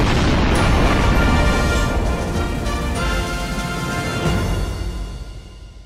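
A loud, booming blast erupts at once and rumbles on, decaying slowly into a broad roaring wash.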